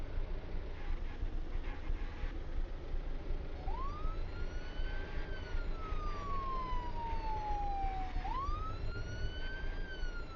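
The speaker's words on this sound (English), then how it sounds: "Have your sirens on" Police car siren in a roleplay video game, a wailing tone that sweeps slowly up and down twice over a rumbling engine background.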